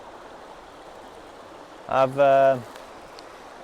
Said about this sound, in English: you've got the rocks in the river there with snow on them, and a little bit of rapids again